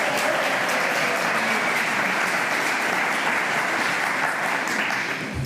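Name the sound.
audience applause at film festival screening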